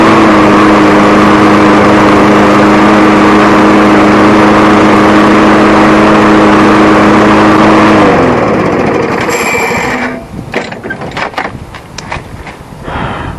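A Canadiana lawnmower engine runs close and loud with a steady, even drone for several seconds, then cuts out, leaving scattered knocks and rattles as it winds down.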